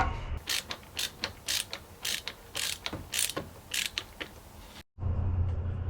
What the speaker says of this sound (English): There's the clamp that you need to unscrew